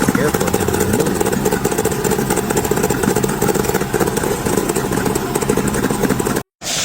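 A motorcycle engine runs steadily during throttle body balancing, a loud, continuous mechanical drone with rapid pulsing that cuts out briefly near the end.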